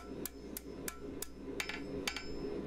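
A blacksmith's hammer strikes hot metal on an anvil, flattening the stock for a wall hook on a forged broom handle. About eight sharp, ringing blows fall at an uneven pace, close and loud, over a steady low hum.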